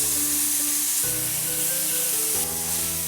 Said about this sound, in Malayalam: താറാവിറച്ചി അതിലേക്ക് ഒഴിക്കുക.